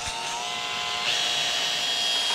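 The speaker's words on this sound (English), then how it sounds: "you wanna drill nice and slow" A power drill whirs steadily at close range, drilling a small pilot hole slowly into a stripped screw on an Arrma Outcast 8s M2C chassis, its motor pitch rising slightly partway through, with no talking.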